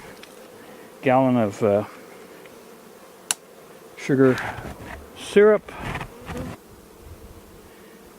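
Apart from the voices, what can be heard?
honeybees buzzing during a hive inspection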